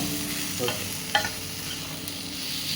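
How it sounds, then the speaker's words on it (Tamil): Onions and tomatoes sauté in a pan for a masala idli, giving a steady low sizzle with a few soft stirring scrapes near the middle, close and fairly quiet, with no talking. "நல்லா வெங்காயம் தக்காளி வந்து வதங்கிட்டு இருக்கு"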